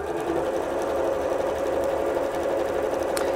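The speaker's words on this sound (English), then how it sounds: "we're just going to flip it over and sew 1/4 inch." A sewing machine runs a quarter-inch seam on gingham quilt pieces, humming steadily and loudly up close without a break.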